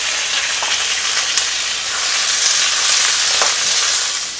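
Potatoes sizzle in a small amount of oil in a pan, a loud, steady frying hiss with faint clinks of stirring and no talk.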